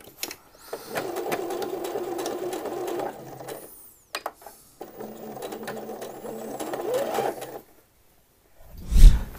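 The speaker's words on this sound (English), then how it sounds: "you want to sew a line of stitching along the shoulder seam here" A sewing machine stitches the shoulder seam of a men's shirt in two close, steady runs of a few seconds each, split by a brief pause, with a soft thump at the very end.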